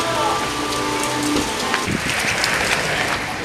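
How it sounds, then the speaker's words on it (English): Heavy rain pours down hard in San Diego while people shop, a dense, loud hiss of drops on surfaces filling the whole clip, with faint background voices. "it's raining really hard"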